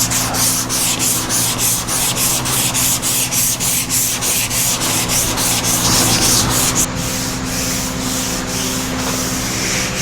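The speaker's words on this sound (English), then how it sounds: "I'll just hit everything with a sander." A sander works over the body of a 1952 Chevy, a close, rough rasping with a regular back-and-forth rhythm, then the strokes smooth into a steady grind near the end.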